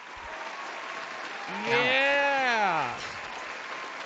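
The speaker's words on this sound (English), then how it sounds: "The pretend people clapping, you mean?" Canned applause sound effect of pretend people clapping, a steady wash of studio clapping running throughout as a person speaks briefly over it.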